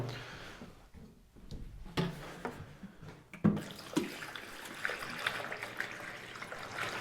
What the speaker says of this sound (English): you can just pour the water straight in